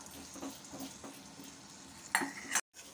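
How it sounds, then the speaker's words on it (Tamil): Urad dal and chana dal being dry-roasted in a pan, heard as soft scraping and rustling of stirring with a light sizzle, ending in a couple of sharper metallic knocks against the pan before a sudden stop. "இந்த உளுத்தம்பருப்பு கடலைப்பருப்பு வந்து கொஞ்சம் நிறம் மாறுற வரைக்கும் இதை வந்து நம்ம நல்லா வறுத்து"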